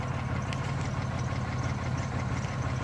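A Chevy Malibu stuck in a slippery snow bank runs its engine as a steady, low, even drone with spinning tires, close and continuous for about three seconds without clear rises in pitch.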